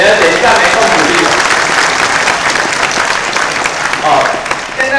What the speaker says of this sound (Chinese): 我们掌声先鼓励一下啦